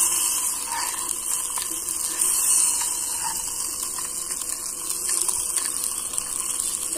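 Water pours steadily into a small pan while miniature aloo tikki cooks with tomato, a continuous trickling gush running for several seconds at close range, with no speech.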